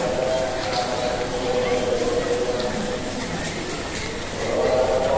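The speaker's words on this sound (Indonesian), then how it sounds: "Ini kereta bandara teman." An airport rail link train passes through Manggarai station, a steady broad rumble and rail hiss with faint horn-like tones, close and continuous, swelling again near the end, with people talking over it.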